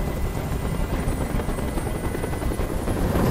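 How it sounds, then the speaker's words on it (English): A helicopter's rotor thumps steadily as it hovers close by in the video game Detroit: Become Human, a continuous loud chopping drone with no voices. "Tell that helicopter to get out of here."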